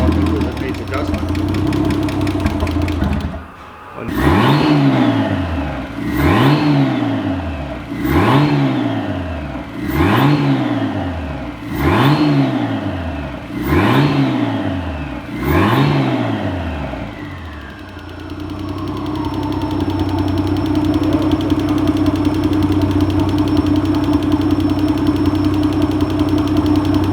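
Nissan Skyline R31 engine needing adjustment, idling roughly then revved six times in a steady rhythm, each blip rising and falling, before settling back to a loud, even idle; a voice speaks briefly near the start.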